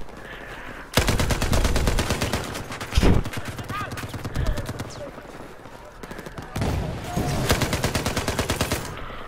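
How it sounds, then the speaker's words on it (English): Machine gun fire in the video game Battlefield 4 on Gunmaster mode, with loud, close bursts of rapid automatic shots separated by brief pauses and quieter stretches. "now we got a machine gun, which is good"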